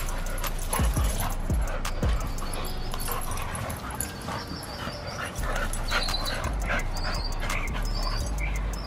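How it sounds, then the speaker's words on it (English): Dogs wrestle roughly in a back yard, panting, yipping and whimpering through a steady outdoor background, with occasional thumps of movement close by. "Why do dogs go for each other's ankle?"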